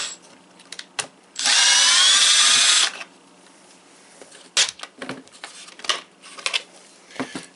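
A power drill removes Torx bolts on a Jeep Wrangler TJ in one loud burst of about a second and a half, followed by scattered clinks and handling noises.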